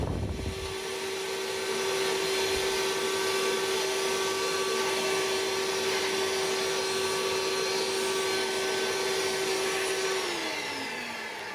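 A Goodmans cordless wet and dry handheld vacuum with a crevice nozzle sucks up breadcrumbs, a steady whirring motor whine with a constant high tone, then powering down and dropping in pitch at the end.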